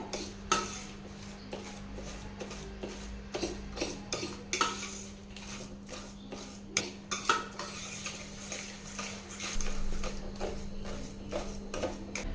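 Mashed banana and sugar mixed in a bowl, with repeated rhythmic scraping and tapping of a spoon against the bowl over a steady low hum, close and fairly quiet.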